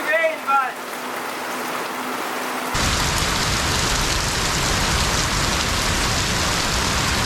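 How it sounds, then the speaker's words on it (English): Heavy tropical rain pours down steadily on a flooded beach area in Davao Province, a dense, loud, continuous roar of downpour that starts abruptly after a few seconds and carries on without a break; a brief voice is heard at the start. "It's heavy rain"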